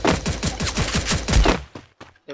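Rapid gunshots from a skinned gun in Free Fire, a steady run of about nine loud, closely spaced shots that breaks off into a few scattered, fading reports.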